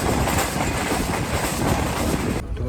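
The Green Line Express passenger train rolls steadily along the track near Lahore, a dense close rumble with rhythmic clickety-clack wheel noise heard from inside an AC car, cutting off abruptly near the end.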